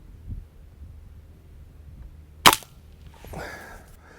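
A single sharp crack from a Diana AR8 N-TEC .22 break-barrel airgun fired off shooting sticks, a loud isolated report followed by a faint mechanical rattle, with quiet surroundings before and after.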